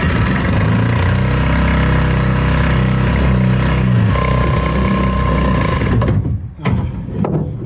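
A homemade boat engine built from a saw blade runs loudly and steadily with a dense mechanical roar up close, then cuts out abruptly near the end before briefly rumbling again.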